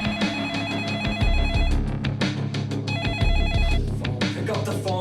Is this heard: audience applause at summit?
no